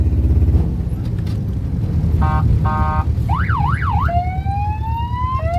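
A car's horn cycles through siren tones, including an ambulance siren: short beeping bursts, then a rising-falling wail and a long sweeping tone, loud over a steady engine rumble.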